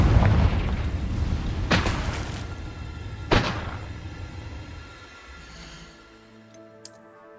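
Confringo blasting spell in Hogwarts Legacy: a heavy boom at the start, then two sharp close blasts with rumbling decay, fading into quieter game sounds and a brief bright chime at the end.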